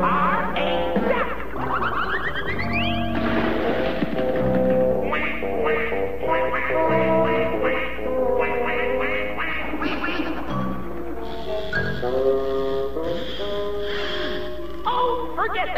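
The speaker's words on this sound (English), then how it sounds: "You are a duck." Cartoon duck quacking from a hypnotized character in a Tom and Jerry episode, a rapid string of loud nasal quacks over a busy orchestral score with slapstick boings and crashes.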